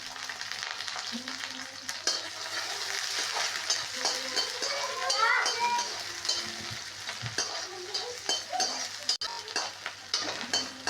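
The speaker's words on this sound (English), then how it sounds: "Now add sliced onion and saute for 10 seconds." Sliced onion sautéing in hot oil in a wok on high flame, a steady loud sizzle with the scrape and clink of stirring throughout, close by and without talking.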